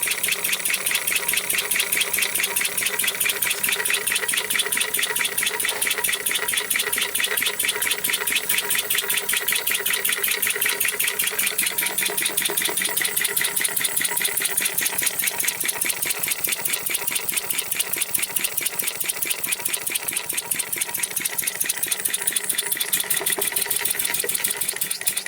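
A four-stroke engine converted to run on compressed air chugs slowly and evenly, a rapid steady train of close, loud puffing beats that keeps going throughout with no talk.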